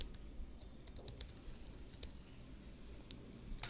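Soft, rapid keystrokes on a computer keyboard as a name is typed out, with irregular light clicks over a faint background hum, close but quiet and with no talking.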